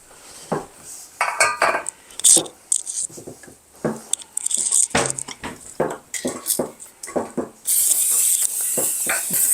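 Peanut butter cookie dough being stirred together with flour in a bowl, a utensil scraping and clinking against the bowl in irregular close strokes, with a steady hiss near the end.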